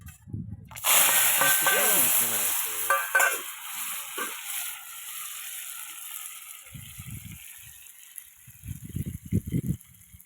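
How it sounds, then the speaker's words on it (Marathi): A sharp, loud sizzle bursts in as spices hit hot oil over a wood-fired clay stove, then settles into a steady crackle with stirring rattles near the end. "तेल गरम झालं गरमच आहे त्यात तेलात मी आता फोडणी देणार आहे"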